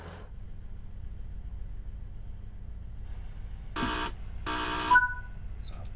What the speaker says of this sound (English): Buzzers.